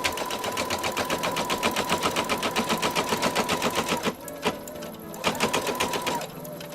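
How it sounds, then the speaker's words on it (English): An embroidery machine runs a placement stitch for a mylar embroidery project, its fast, steady needle rhythm loud and close, briefly pausing and changing pace in the final seconds. "We're going to stitch our placement stitch here, just as we've done all the other times."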